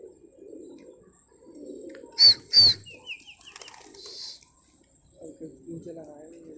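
Gola fighter pigeons coo in a loft, with a couple of sharper bird calls standing out briefly while someone talks nearby before and after.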